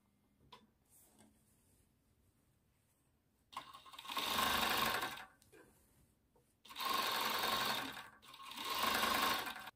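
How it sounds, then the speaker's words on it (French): A sewing machine overlocking a dart during an alteration of a fast-fashion garment, running in three close bursts of steady whirring stitching, separated by quiet handling of the fabric. "je vais surjeter ma pince."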